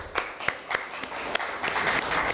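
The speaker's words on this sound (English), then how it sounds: "we all should give another round of applause to them" An audience at an India Independence Day celebration claps for the children, a quiet scattering of individual claps thickening into steadier applause over a couple of seconds.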